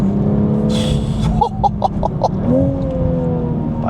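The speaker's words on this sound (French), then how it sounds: "Quand on rétrograde, vraiment il y a le moteur qui rugit, les petites pétarades" A Toyota GR Supra Final Edition engine on winding roads, a loud steady drone that breaks into a quick run of sharp pops, then swells again as the revs climb.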